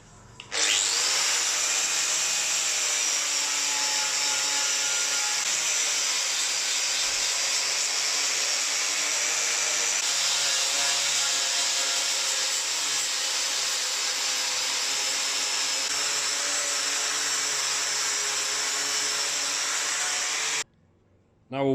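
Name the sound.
wire wheel grinding rust off Land Rover bulkhead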